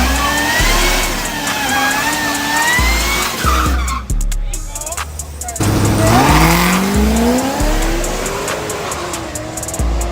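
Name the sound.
Chevrolet Caprice wheel spin, tire squeal and revving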